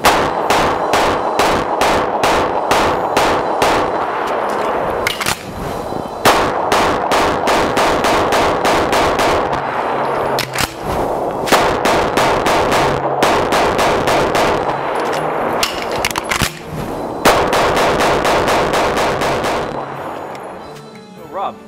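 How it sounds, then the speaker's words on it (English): A CZ Shadow 9mm pistol made in the Czech Republic, loaded with 147 grain bullets, fires many loud close shots in quick succession at an indoor range, with brief pauses between strings. "9mm, shooting 147 grain bullets from Montreal, from Campro, supplied by John"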